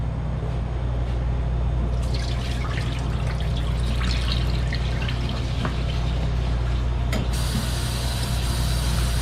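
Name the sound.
dumping potato soaking water out into the sink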